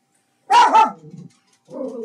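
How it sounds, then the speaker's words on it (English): A dog at a home barks in two quick sharp bursts, followed by a shorter lower bark after a brief pause, loud and close with no talking. "the dog is going off"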